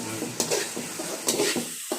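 Masala for a quail curry bubbles and sizzles in a pan while a spoon stirs and scrapes it in a few repeated strokes, close up.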